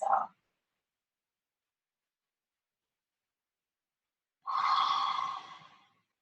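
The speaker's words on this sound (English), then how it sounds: "Feel free to hear your inhale and your exhale." Audible breath during a Hatha yoga flow: a short exhale at the start, then after a long silence one fuller, drawn-out breath, close and fairly soft, with no talking.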